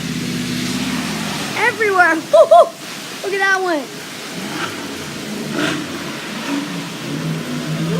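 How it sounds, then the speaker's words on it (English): Cars drive through deep flood water on a soaked street, sending up broad splashing whooshes at mid distance, partly buried under excited shouting and chatter from people standing nearby. "Look at all these cars splashing"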